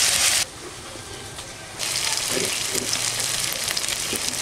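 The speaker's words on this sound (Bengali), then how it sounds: "পেঁয়াজ আদা রসুন ভাজা ভাজা হয়ে গেছে" Onion, ginger and garlic paste frying in a pan, a loud burst of sizzling at the start, then a steady softer hiss with scattered crackles and a few light stirring scrapes.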